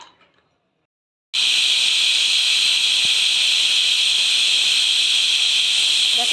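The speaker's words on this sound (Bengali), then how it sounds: "দেখো 2টো সিটি, একটা সিটি আগে পড়েছে, এই একটা সিটি" A pressure cooker of pulao lets out a loud, sustained steam whistle that bursts on suddenly after a short quiet moment and then holds at a steady, piercing hiss, heard close.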